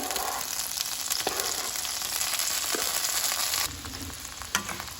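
Chile, tomato and onion hit a hot oiled pan with a strong, continuous sizzle, joined by a few sharp scraping stirs and a brief metallic clink near the end; no voices.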